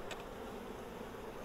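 Continuous soft buzzing of many honeybees around an opened Flow Hive in a garden, a faint, even drone with no voices.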